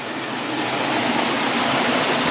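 Fresh river water rushing over small stone steps in a river in Goianinha, Rio Grande do Norte, a loud, steady broadband wash with no voices.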